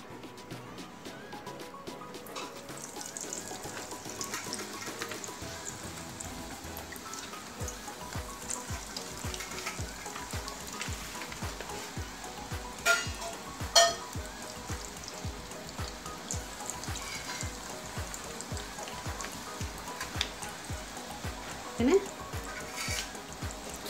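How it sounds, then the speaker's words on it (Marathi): Chakli, spirals of rice-flour dough, fry in hot oil with a steady crackling sizzle throughout while someone talks over it. "तेल छान तापलं आहे, त्यानंतर आपण चकली तेलात सोडून घेऊया।"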